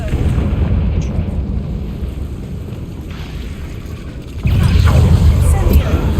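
Confringo fire spell explosion in the video game Hogwarts Legacy: a loud, continuous low rumbling blast that swells again partway through, heavy and close, with a voice present underneath.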